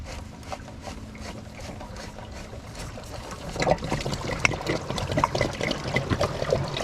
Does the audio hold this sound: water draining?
yes